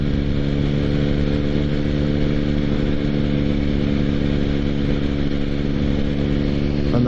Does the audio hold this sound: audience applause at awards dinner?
no